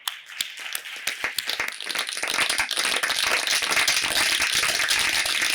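An audience at a workplace awards presentation breaks into applause to welcome the next speaker, beginning as a few separate claps and quickly swelling into loud, continuous clapping from the whole room.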